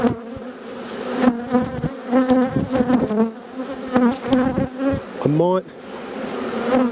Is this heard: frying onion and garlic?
no